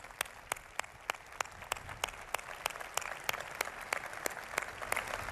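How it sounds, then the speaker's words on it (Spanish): Audience applause at a Spanish-language open dialogue event with a president, heard as a steady wash of clapping with regular sharp claps standing out, moderately distant and continuous throughout, with no talk over it. "También para ellos un aplauso, por favor."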